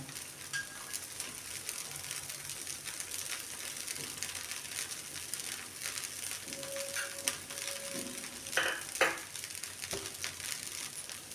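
A tomato and chilli dosa frying in oil on a pan, a steady close sizzle throughout with a few brief scraping and clicking touches of a spatula toward the end.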